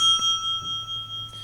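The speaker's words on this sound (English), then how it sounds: "You have 60 seconds when the bell rings." A debate timer bell gives a bright, sustained ring with steady overtones that hold across the whole moment, alone over a faint low room hum.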